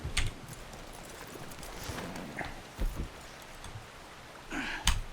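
Sparse horse hoof clops and snorts from Red Dead Redemption 2, with a couple of louder thumps over low background ambience; no talking.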